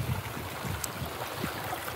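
Seawater at Swanage on the English coast, a steady broadband wash of waves and moving water heard outdoors, fairly loud and continuous with no talk.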